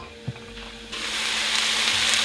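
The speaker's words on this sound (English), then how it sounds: "And now we're going to add the broccoli right in. And we're going to let that cook for about 5 minutes." Broccoli dropped into a pot for a vegan green garlic and herb stew: a soft thump, then steady, close sizzling and bubbling that swells and holds.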